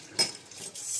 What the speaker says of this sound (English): we're going to mix that all together really well